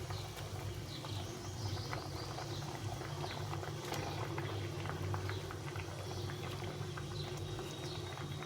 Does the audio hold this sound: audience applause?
no